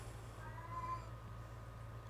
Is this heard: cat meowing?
yes